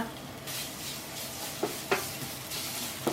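Spicy northern Thai chili paste is stir-fried in a pan, a soft continuous sizzle with a few scraping stirs and small clinks, fairly quiet and close.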